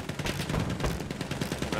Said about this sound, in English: Oh, everyone is shooting.